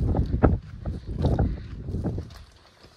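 Gusty outdoor wind buffets the microphone beside a chicken coop being extended, rising in loose low rumbling surges and easing off toward the end, with no one talking.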